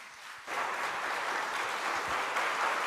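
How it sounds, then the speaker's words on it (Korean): A church congregation at a Friday worship service breaks into warm applause to welcome a guest speaker. The clapping starts abruptly after a brief lull and stays dense and even throughout, with no talking over it. "우리 큰 박수로 한번 환영할까요?"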